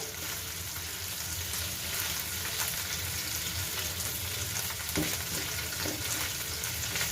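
Mashed mixed-fish bharta sizzles in a pan in a steady, continuous hiss with faint crackles and an occasional stirring scrape, moderately quiet and close, with no one talking.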